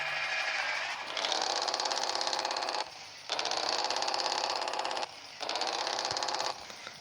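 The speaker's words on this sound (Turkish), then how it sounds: "Motorun sesi benden size gelsin gençler." A truck engine in the Truckers of Europe 3 video game revs in three loud, buzzing, rattly bursts separated by short drops back to a lower idle, close and steady with no talking.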